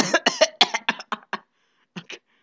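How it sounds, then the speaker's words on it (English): A run of dry coughs, about eight sharp bursts in quick succession, then a short pause before two more; close and fairly loud, with no talking. "Ignore that dry cough"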